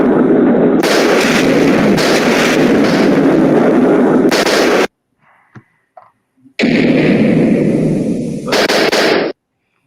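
Video game Duck Wars weapon fire: missiles launch and explode in dense, loud roaring bursts, broken by a short near-silent gap with a few faint pops before the blasts resume.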